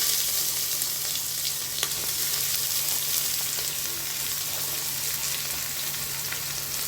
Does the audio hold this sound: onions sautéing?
yes